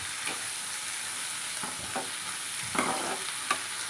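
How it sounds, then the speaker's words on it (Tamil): Onions sauté in a pan for a Tamil-style chutney, a soft steady sizzle underneath while a spoon stirs in scattered scrapes and taps, heard alone with no talk. "இப்போ இந்த வெங்காயம் நல்லா வதங்கணும்."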